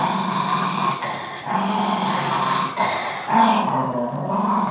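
A dog growls continuously in low, rumbling bursts, rising into louder, harsher snarls with brief pauses between, close and prominent with no talking.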